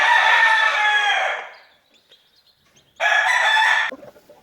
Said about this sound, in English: these roosters behind me wants to crow and drown me out